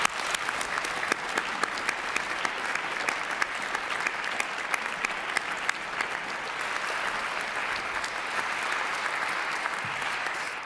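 A large audience claps steadily at a music competition prize ceremony, a dense, even wash of hand claps lasting over ten seconds with no speech on top.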